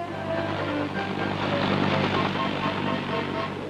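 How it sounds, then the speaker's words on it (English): Army helicopters flying in supplies and ammunition to armored units in combat, a steady loud rotor and engine drone that holds evenly throughout with no talk over it. "Helicopters bring in badly needed supplies and ammunition."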